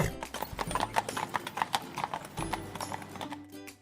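A horse's hooves clip-clop in a quick, even rhythm, close and clear, a steady trotting patter that carries on for several seconds.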